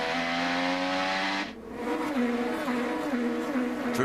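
Will Power's IndyCar on the Toronto street circuit, heard onboard at full throttle: a steady high-pitched engine wail that dips briefly, then climbs again through a quick right-hand flick, loud and close throughout.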